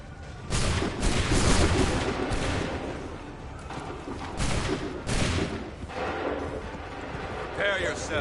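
Musket volleys in Assassin's Creed 3, several loud booming bursts of massed gunfire at irregular intervals, with shouted voices among the battle noise.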